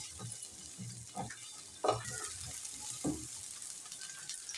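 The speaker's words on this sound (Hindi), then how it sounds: "एक पैन में हम 2 टेबलस्पून के करीब ऑयल ले लेते हैं और इसमें ऐड करेंगे 6 से 7 कलियाँ लहसुन की।" Garlic cloves roasting in oil in a pan, giving a soft steady sizzle with a few brief stirring scrapes and clinks. Quiet and close, with no talking.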